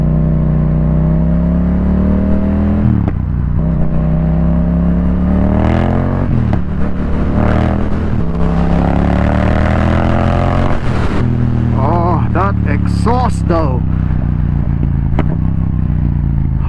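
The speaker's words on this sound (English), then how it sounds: "at the moment that's all I can hear, it's my exhaust" A Yamaha XSR700 motorcycle with an Akrapovic carbon exhaust drones loudly and continuously while riding, rising and falling with throttle changes, with wind rush and mechanical clatter throughout.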